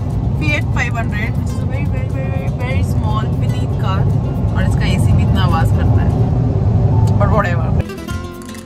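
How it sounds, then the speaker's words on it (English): A cute Fiat 500 drives from Sevilla to Cordoba, its steady engine and road drone loud and continuous from inside the car, with people talking over it and a drop in level near the end. "So we are driving from Sevilla to Cordoba in this cute Fiat 500."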